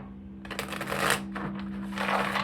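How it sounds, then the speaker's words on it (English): Hoodoo Tarot cards being shuffled by hand in two quick bursts of riffling and sliding, close and fairly soft over a steady low hum, with no talking. "I was just shuffling."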